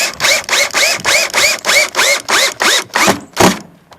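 A power driver sends screws into the frame of a bay window during installation, with about a dozen short, even whirring bursts in a steady rhythm, loud and close, and no talk.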